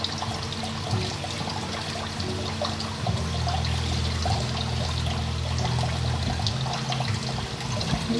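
Tap water pours steadily while raw chicken is rinsed, making a continuous splashing stream up close. The flow grows heavier and fuller about three seconds in, then continues without talking.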